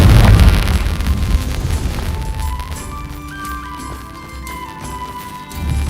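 Confringo blasting spell in Hogwarts Legacy, opening with a heavy, booming explosion that fades into rumbling debris and lighter crackles.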